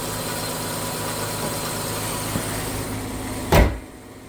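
A 2016 Dodge Grand Caravan engine idles with a steady, even mechanical hum, ending in a single short thump before it quiets; no one speaks.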